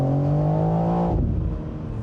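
A 2025 BMW M4 Convertible engine revs with a strong rising note, then drops abruptly as it downshifts, leaving a rough, burbling rumble that fades briefly.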